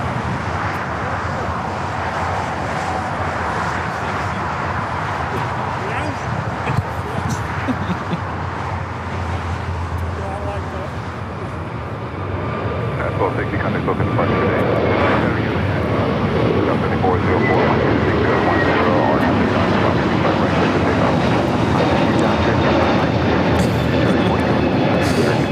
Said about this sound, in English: United Airlines 1260 taking off to Denver on the A321neo.